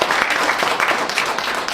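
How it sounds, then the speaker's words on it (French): Audience applause at a business conference, a steady wash of many hands clapping, fairly loud and without speech over it. "Merci vous pouvez les applaudir"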